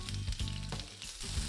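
Chopped onion sizzling in vegetable oil in a heated frying pan, a steady close crackle and hiss with a few louder bursts, no voices over it.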